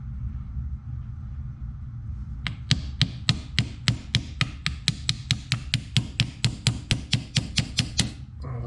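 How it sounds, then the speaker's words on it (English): Quick, sharp taps from a small plastic hammer strike in a steady series of about twenty evenly spaced hits over a low background rumble, during a Zenoah G23LH engine build. "Where's my little hammer at? My little plastic hammer."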